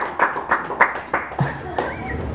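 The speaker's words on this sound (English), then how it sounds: "Why not just slow clap?" A single person does a slow clap, giving about six deliberate, evenly spaced claps close by in a quiet room, followed by faint background sound.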